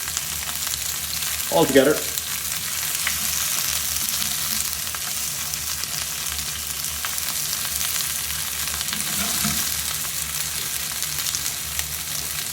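Asparagus sizzling and frying in a pan, a loud continuous crackle with a couple of brief stirring clatters, and a voice speaks briefly once.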